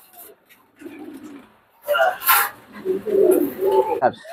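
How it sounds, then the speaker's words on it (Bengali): White racer pigeons coo in a loft, a few soft throaty calls rising through the middle and end of the clip, with someone talking over them. "হোয়াইট রেসার খুব সুন্দর, হ্যাঁ খুব সুন্দর কোয়ালিটির কবুতর দেখেন"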